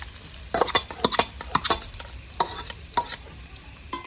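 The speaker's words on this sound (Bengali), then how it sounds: "এবারে আমি এখানে পেঁয়াজ দিয়ে দেবো" Onions are dropped into hot oil with golden-browned garlic and ginger, and a spoon stirs them in the pan with a series of sharp scrapes and clatters over a soft, continuous sizzle.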